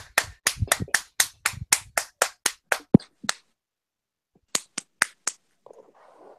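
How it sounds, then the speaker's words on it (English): A few people clapping for a racing driver on a motorsports show, sharp close individual claps in a quick regular series that stops, then a short second burst of four claps after a pause. "We got some applause"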